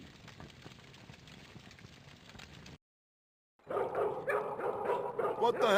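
A dog in the video game Broken Sword 2 barks and yips, with a run of sharp, fairly loud barks after a brief silence and a quieter stretch of sound before it.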